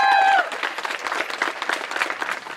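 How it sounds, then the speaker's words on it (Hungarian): Applause from a crowd of wedding guests, a dense spread of clapping that swells after a brief tone and carries on steadily throughout, fairly loud and close. "egy hatalmas tapsot párnak is tortának"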